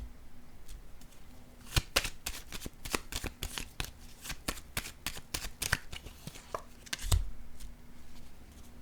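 Tarot cards being handled and shuffled close by, a rapid run of crisp flicking snaps followed by a soft slap as a card is laid down on a quiet table.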